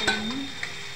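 Tomatoes go into masala frying in a pan, giving a short stir and a soft steady sizzle close by.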